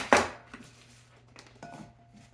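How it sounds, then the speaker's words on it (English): Salad vegetables chopped with a ceramic knife on a board in a home kitchen: one sharp, close cut followed by a few softer, quieter taps, with no talking. "So I'm just chopping this up."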